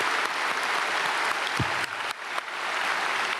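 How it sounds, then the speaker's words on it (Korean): A large church congregation at a special dawn service claps loudly and continuously, a dense roar of applause with no voices over it. "박수 하나님께"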